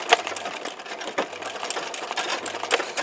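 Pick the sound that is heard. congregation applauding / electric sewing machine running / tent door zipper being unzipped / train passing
electric sewing machine running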